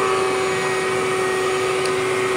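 A household vacuum cleaner runs during chore time at home, giving a steady, loud droning hum with a sharp whine that holds unchanged throughout, and no voices over it.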